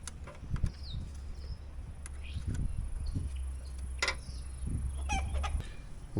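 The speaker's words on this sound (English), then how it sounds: "I gotta keep my eye on my rooster." A rooster clucks and calls in short, scattered bursts close by, over a low background rumble, with brief thumps and movement sounds in between.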